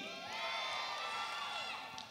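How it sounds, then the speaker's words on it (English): A crowd of gymnasts cheers and shouts together, a loud sustained burst of whoops and high-pitched voices at a gymnastics event. "I want to hear the biggest cheer I can hear from the crowd of gymnasts who are sitting over there"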